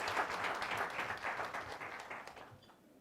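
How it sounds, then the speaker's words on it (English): A conference audience at a Goa forum applauds steadily for a woman, dense clapping that holds for most of the stretch before thinning and fading near the end, with no voices over it. "So a big round of applause for Maria as well"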